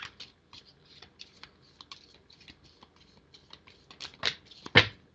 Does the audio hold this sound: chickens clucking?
no